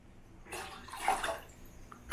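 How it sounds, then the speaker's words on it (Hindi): Water poured into a cooking pot to make sugar syrup for rice flour rasgulla, a short soft splashing stream that swells, eases off and ends with a brief clatter in a quiet kitchen. "4 कप पानी डाल दिया है और इसे गर्म होने चढ़ा देते हैं।"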